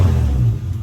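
A right-hand-drive Integra Type R engine idles with a steady low rumble, loud and close, and no voices are heard over it.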